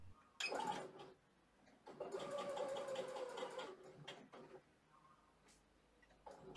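A sewing machine stitches a straight seam with roughly 3 mm stitches on a dress, running in two clear bursts, a short one and then a longer steady whirr, with quiet pauses between.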